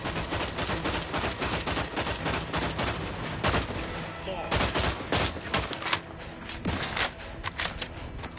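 Rapid, dense bursts of gunfire in the video game The Outer Worlds 2, loud and close, sustained volleys with brief pauses, with faint game voices underneath.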